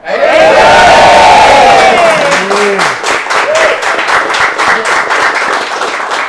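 A studio audience at a barbecue talk show cheers and applauds loudly, dense clapping with shouts and whoops that swells at first and then settles into steady applause, with voices mixed in.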